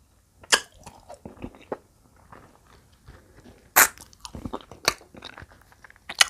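Someone eats ripe tamarind, making close, crisp crunching bites followed by softer chewing and smacking in short irregular bursts, with no talking.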